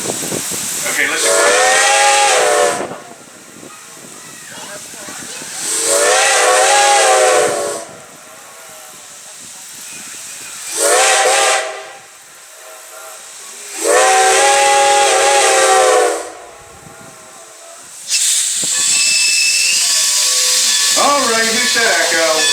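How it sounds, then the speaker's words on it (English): Steam locomotive whistle on the Strasburg Railroad, sounding in four loud, long blasts separated by pauses, each followed by a hissing echo across the valley, with a final shorter hiss and a brief trailing whistle. "he sits in the valley and blows the whistle for us whenever we need it"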